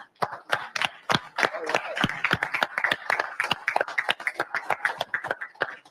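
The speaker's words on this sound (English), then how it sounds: "we'd love to give you a round of applause" A group at a truck driver meeting claps for a new driver orientation group, with sharp, irregular claps coming close and fairly loud for several seconds while voices talk underneath.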